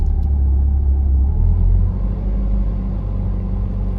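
A Nissan S13 with an SR20 engine idling high, around 1300 RPM, from a fault in its idle system, giving a steady, loud, close low rumble that eases slightly partway through.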